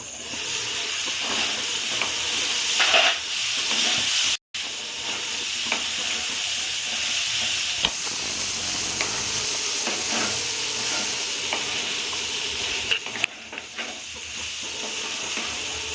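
Mixed vegetables for a Bengali-style sabzi sizzle steadily in a pan, with scraping stir strokes throughout and a brief break partway through. No voices are heard.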